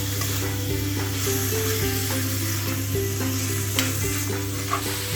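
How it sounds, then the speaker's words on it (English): Pork fries over high flame with onion, ginger and garlic, a loud, continuous sizzle with occasional stirring scrapes through the pan. "Add pork to the onion, ginger garlic, and fry for around 5 minutes on high flame."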